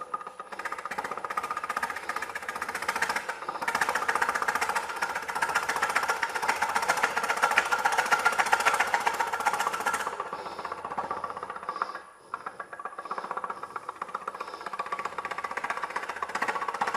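A wood lathe cuts a winged bowl with a continuous rough, chattering grind, loud and close, easing briefly and then carrying on.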